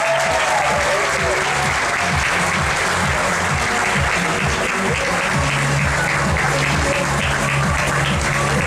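An audience at a Brazilian talent competition awards ceremony breaks into loud, sustained applause, a dense wash of clapping that holds steady throughout with a faint voice underneath.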